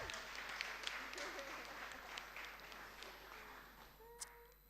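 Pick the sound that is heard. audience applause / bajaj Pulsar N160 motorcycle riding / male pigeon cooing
audience applause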